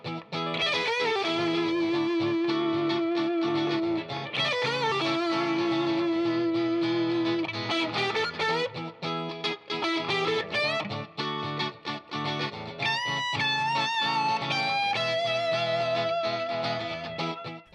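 Distorted lead electric guitar plays a fast solo, with sustained bent notes and quick runs, loud and continuous without talk.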